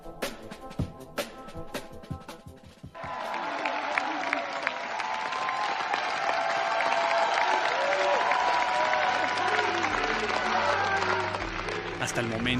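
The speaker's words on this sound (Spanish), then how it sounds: "esta ovación de pie, 22 minutos para la voz de Hind Rahab" A long standing ovation for Hind Rajab's voice at the Venice Film Festival, a dense, sustained wall of crowd applause that swells in after a few seconds and keeps going steadily, with brief speech-like sounds near the start.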